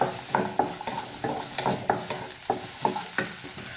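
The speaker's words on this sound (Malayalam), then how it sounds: "അത് ഇട്ട് കൊടുക്കാം നന്നായിട്ടൊന്ന് ഇളക്കി കൊടുക്കാം" Chopped shallots sizzle in a pan while a spatula stirs them in a regular rhythm, each scrape landing roughly every third of a second over the constant frying hiss, close and clear.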